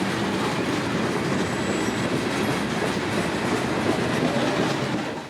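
A freight train carrying rock, grain, limestone and lumber rumbles steadily past on shuttle service between Winston and Mulberry, a loud, continuous roar of wheels on rail with faint clatter, close and without voices.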